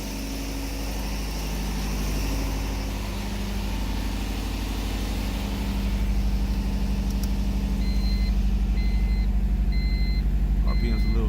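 A Honda Civic with a swapped H22 engine idles while warming up, a steady low rumbling drone that holds close and grows slightly louder over time, with a few faint high beeps near the end.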